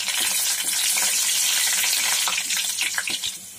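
Garlic, cumin and curry leaves fry in oil in an iron kadhai, a loud, dense sizzle with spitting crackles and stirring scrapes throughout, easing slightly toward the end, with no one talking.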